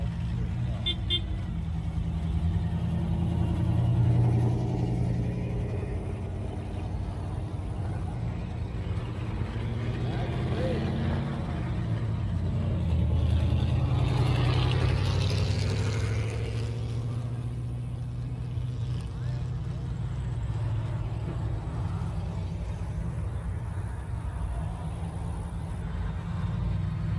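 Cars pull out of a church's annual car show parking lot, their engines a steady low rumble that swells and fades as they pass, with people talking nearby throughout.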